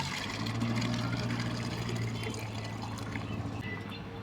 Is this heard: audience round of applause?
no